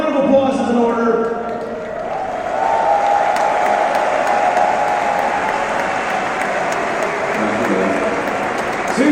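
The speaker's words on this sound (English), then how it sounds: "make some noise for the legend that is Smith's. Her name is Sue. She has been here all tournament long. A round of applause is in order." A crowd applauds loudly and steadily throughout at a StarLadder Major Berlin 2019 esports tournament event, filling a large venue.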